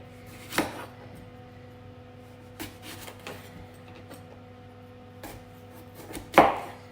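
A knife cuts an unpeeled apple into four pieces on a board, giving a few sparse, sharp chopping knocks spread apart. The last strike is loudest, with quiet background between cuts.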